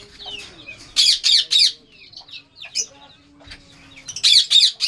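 Pet birds squawk in loud clustered bursts with scattered chirps between them, nearby and shrill, a fresh volley closing the stretch.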